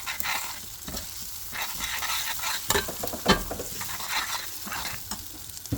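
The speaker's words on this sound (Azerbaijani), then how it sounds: "Yavaş-yavaş qarışdırırıq." A spoon stirs sugar and butter caramelizing in a pan, with close scraping strokes and bursts of sizzling at an uneven rhythm, no voices.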